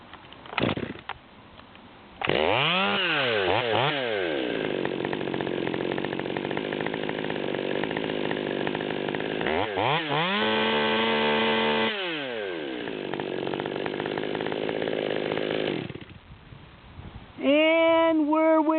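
Stihl MS200T chainsaw with a 25-inch bar running loud and close, revving up and down repeatedly while being tuned, holding long high steady stretches between sweeping rises and falls, then dropping to idle near the end.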